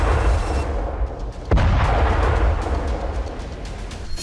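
Rockets strike an industrial corridor near the Lebanon border, a loud sharp blast followed by rumbling booms and a continuous roar.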